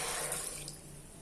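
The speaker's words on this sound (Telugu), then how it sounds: "గ్లాస్తో గ్లాస్ వాటర్ పోస్తున్నాను" A glass of water poured into a pot on the stove while making jaggery syrup, a steady splashing trickle that stays fairly close and soft before tapering off slightly toward the end.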